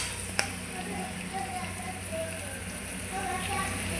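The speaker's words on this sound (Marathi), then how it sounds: "कांदा आता लाल होईपर्यंत भाजून घेऊया." Onion frying in a pan until reddish for a Marathi pendpala recipe, a continuous close crackling sizzle with one sharp tap near the start and a faint voice in the background.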